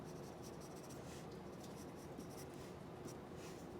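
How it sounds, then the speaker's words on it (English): A graphite pencil makes quick random little lines on paper to texture a tree, giving a soft, continuous scratchy rasp that stays close, faint and steady with no voice. "I'm just using my pencil in random little lines"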